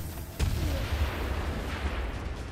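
A gas rat bursts in Warhammer: Vermintide, one sudden loud boom followed by a sustained hissing, rumbling cloud that lingers steadily for the rest of the moment.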